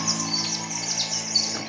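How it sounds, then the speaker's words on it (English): Birds chirp in a lively cluster beside a road during a bike ride, with quick high tweets repeating over a steady background of wind and road noise. "There was a bird frenzy there"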